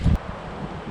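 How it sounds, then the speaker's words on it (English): Strong wind outdoors buffeting the microphone, with a brief loud gust thump at the start, then a low steady rumble and rustle. "Horrifically windy."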